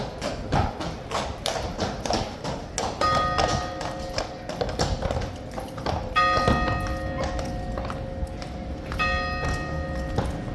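Horse hooves clop in an uneven rhythm over a hard stable floor, with metallic ringing tones and ambient noise in a large space.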